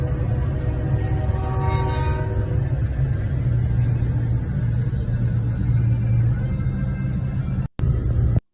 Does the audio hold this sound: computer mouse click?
no